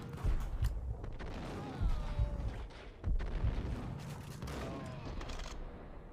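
Gunfire from the video game Max Payne, with repeated shots and booming bursts spread across the stretch over a steady backdrop of game noise.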